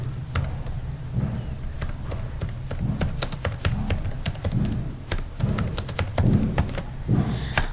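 Fingers type on a computer keyboard, entering an e-book topic, with a quick irregular run of sharp key clicks and heavier thunks of the space bar, close and clear, with no talk.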